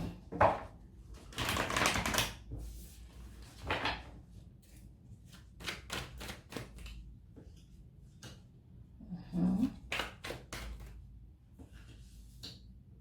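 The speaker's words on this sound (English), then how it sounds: "I've already shuffled your cards off camera, but I'm going to do a couple more." Tarot cards are shuffled close by in a series of short papery riffles and taps, with pauses between bursts.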